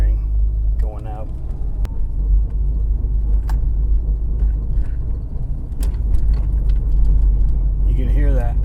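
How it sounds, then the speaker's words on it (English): Failing wheel bearing on a 2008 Subaru Outback, a steady low rumbling drone in a moving car with light rattles, while people talk over it. "it's got another wheel bearing going out"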